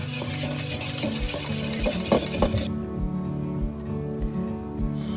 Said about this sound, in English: Take the egg whites and whisk them together until frothy